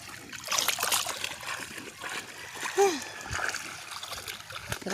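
Clothes are washed by hand in a river, with close, splashy slaps and sloshes of water and a gentle trickle beneath, while people talk throughout.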